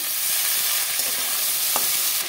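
Chopped onion, green chillies and washed vegetables frying in a pan with five-spice, heard as a dense, bright, steady hiss up close with a faint clink of stirring and no voices.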